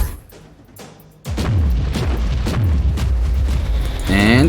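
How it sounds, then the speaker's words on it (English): A stationary cannon fires in Warhammer 40,000: Inquisitor - Martyr, a sudden heavy boom that settles into a sustained loud rumble with game effects, a rising tonal sweep near the end. "I think once it is here, we could do a lot of damage with the stationary cannon."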